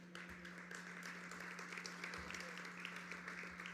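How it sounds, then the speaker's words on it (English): Audience applause after a transit agency's annual address, a steady, faint wash of clapping filling the short stretch without pause, with a low hum underneath. "So give yourselves a round of applause."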